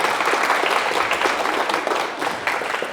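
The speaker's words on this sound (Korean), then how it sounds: "박수로 한번 하답하면 좋겠네요" Audience at a Korean lecture session breaks into applause, a dense, even burst of many hands clapping close and steady for a few seconds, fading slightly near the end.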